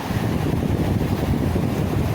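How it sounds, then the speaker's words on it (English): Strong wind out of the north at the coast on an incoming tide, a loud continuous rumble and buffeting across the microphone. "Good bit of wind out of the north"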